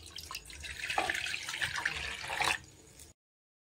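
Water pours into a measuring mug, a continuous splashing stream lasting a few seconds that swells slightly before cutting off abruptly into silence.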